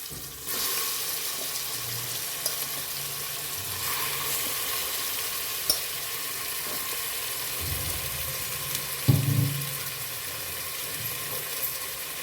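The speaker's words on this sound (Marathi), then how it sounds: "आणि हे छान परतून घ्यायचे बघा" Chicken frying in a pan with asafoetida, a steady loud sizzle broken by occasional stirring scrapes and clunks of the utensil, with no voices.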